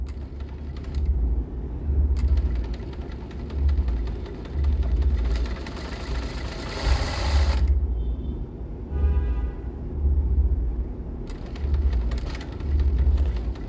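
A sewing machine stitches a blouse in short repeated bursts, its motor whirring and knocking rhythmically at close range with brief pauses between runs.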